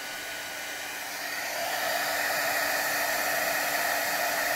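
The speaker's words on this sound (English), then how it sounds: "Okay, preheat my heat gun." An old Marvy heat gun for embossing runs steadily, a constant broadband blowing hiss that swells slightly louder after the first second and a half, then holds even, close and alone without any voices.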